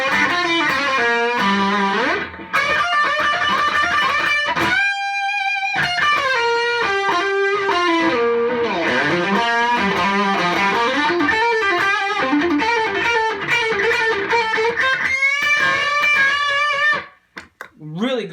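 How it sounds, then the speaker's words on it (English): Heavily overdriven electric guitar played through effects pedals, sustained, buzzing chords and riffs, loud and continuous, with a brief gap near the middle and a sudden cutoff at the end. "Gives you kind of that sound, like that really heavily overdriven."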